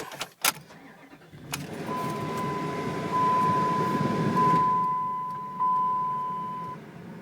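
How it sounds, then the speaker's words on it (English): A 2004 Dodge Ram 2500 4x4 with a 5.7L Hemi V8 cranks and fires, settling into a steady idle heard from inside the cab, while a continuous chime tone sounds over it. "Let me fire this guy up."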